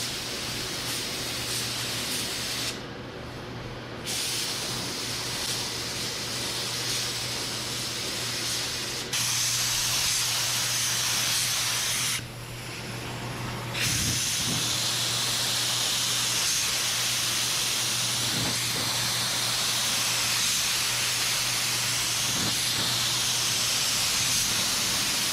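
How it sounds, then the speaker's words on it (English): A spray gun sprays paint onto the body of a 1959 Dodge Coronet, a steady loud hissing that runs almost continuously, with two brief pauses between passes, alone without talk. "Let's get it in the gun. Let's spray it on."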